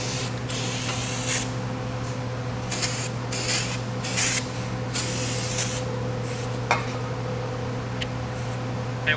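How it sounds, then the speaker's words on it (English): Repeated short bursts of brake cleaner spray hissing close up, several quick blasts spaced irregularly over a low steady hum. "Some brake clean or whatever to spray it off there."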